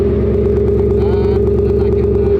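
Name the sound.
simulated V8 engine sound played from an electric car's speaker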